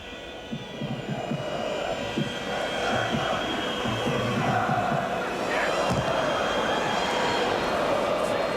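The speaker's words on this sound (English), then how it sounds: "the home crowd starting to give Seaman a bit of a going over" Home crowd at a 1998 World Cup qualifier between Poland and England, jeering goalkeeper David Seaman: a broad, steady roar of whistles and booing filling the stadium, with a commentator talking over it.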